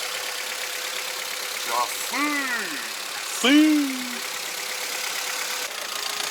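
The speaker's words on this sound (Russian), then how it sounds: "ну, я вот мотор слышу" A car engine idles with a steady, even rumble, and a couple of short voiced sounds rise briefly over it. The car was damaged by a ballistic missile strike.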